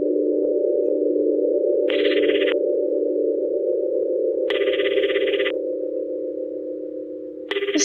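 A phone call ringing tone in the video game Watashi wo Yurusanai: a continuous steady tone broken by three short, brighter ring bursts at regular intervals, clear and close, with no talking.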